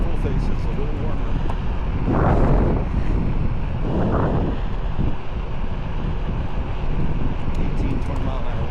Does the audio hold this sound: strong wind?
yes